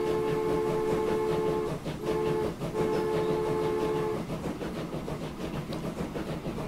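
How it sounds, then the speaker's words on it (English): Freight train in the Transport Fever video game, a steady loud rumble of rolling wagons with a sustained horn-like tone that breaks off briefly, then continuing clatter of cars passing, with no talk. "let's follow this train around while we wait"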